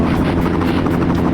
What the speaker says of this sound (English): There's a helicopter, and I'm heading right towards a human